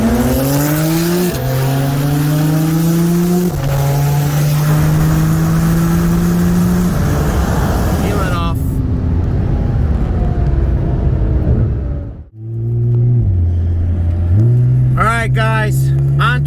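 Built 2020 Audi RS3 with an IMS850S turbo kit on E85 and a 2017 Porsche 911 Turbo racing from a 40 mph roll: loud engines rev up through several gear shifts, then ease off and rise again close by.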